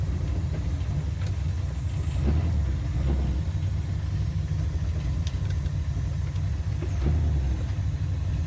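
A 1969 Chevrolet Camaro engine drones loudly and steadily from the cabin as the car accelerates through the gears, with a continuous low rumble and brief pitch shifts at the gear changes.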